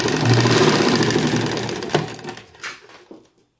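A sewing machine driven by a washing machine motor runs with a loud, steady mechanical whir and clatter, then slows and stops, leaving a few knocks and faint clicks.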